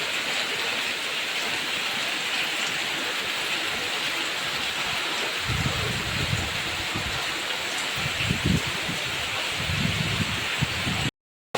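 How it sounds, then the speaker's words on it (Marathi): Heavy early-monsoon rain pours down in the Konkan countryside, with water streaming off the eaves. It is a loud, dense, unbroken roar, and heavier gushing surges come and go in the second half. "इथे पण पावळ्या जोरात पडायला सुरुवात झाली."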